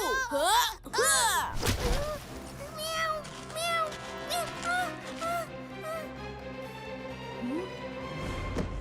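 A voice imitates a cat, giving several drawn-out meows in a row, loud at first and then softer, with some talk in between.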